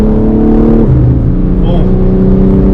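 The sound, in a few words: BMW M4 Competition xDrive upshift sound at full throttle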